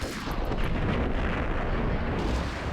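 In Max Payne, a bomb goes off with a loud, dense roar of blast and rumbling debris that holds steady throughout, heavy low-end noise with no clear onset and no talk.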